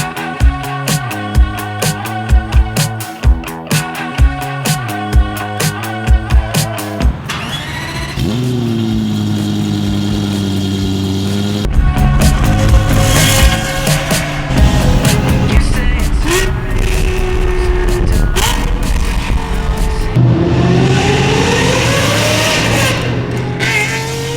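A straight-piped Lexus LFA V10 on a dyno snarls and climbs through rising revs after a short rhythmic musical intro, its engine roar loud and sustained with pitch sweeping up and down.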